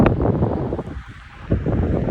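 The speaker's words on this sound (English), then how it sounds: "Welcome to rainy and gray, windy England." Wind gusts steadily across an open field in rainy, grey England, a loud, rough rumble buffeting the microphone and dipping briefly before returning at full strength.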